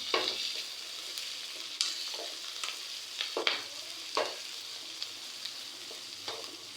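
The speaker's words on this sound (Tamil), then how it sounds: "பச்சை மிளகாய் ஒரு 2 நிமிஷம் ஃப்ரை ஆகட்டுங்க." Onions and green chillies frying in a pan for a village-style chicken curry, a soft steady sizzle with intermittent scraping stirs from a spoon, quiet and close.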